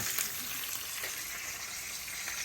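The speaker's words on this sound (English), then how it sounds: "So we fry our snapper to begin with." A five-pound Guyanese snapper frying in hot oil, giving an even, close hiss and crackle that holds steady from start to finish.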